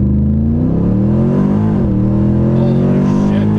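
A procharged, fully built 2009 Jeep SRT8 accelerates at full throttle, its loud engine roar climbing in pitch, dipping briefly at an automatic gearshift, then climbing again.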